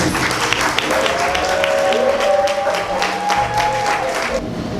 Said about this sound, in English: can you please give Janisha a warm round of applause?